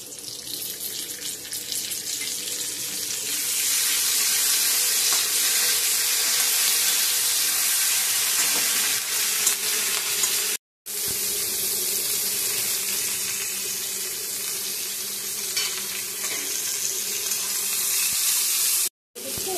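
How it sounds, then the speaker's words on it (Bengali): Dried chillies temper in hot mustard oil with a loud, continuous hiss that swells after a couple of seconds and breaks off briefly twice. "সর্ষের তেল গরম করে শুকনো লঙ্কা ফোড়ন,"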